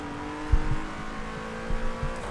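A race car engine hums steadily in the Project Cars 2 / Automobilista racing game, with a few soft thumps and slight revving, and no voices.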